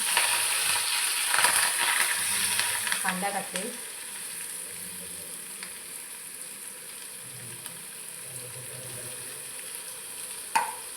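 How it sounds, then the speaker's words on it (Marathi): Mustard seeds and cumin crackle in hot oil for a tempering, giving a steady sizzling hiss with a few sharp pops while someone talks over it. "राई आणि जिरं कसं तडत तडतडते"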